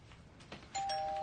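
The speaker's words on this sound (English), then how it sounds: "Doorbell's ringing." A doorbell chimes once, a clear electronic ding-dong ringing out close and loud after a brief quiet moment.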